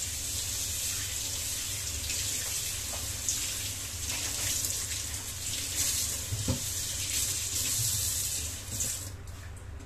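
Running tap water pours steadily over a green papaya at a sink, a continuous broadband rush with faint splashes and handling sounds, close and fairly loud, with no talking.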